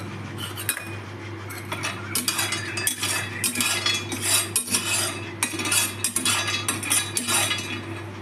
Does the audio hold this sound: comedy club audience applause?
no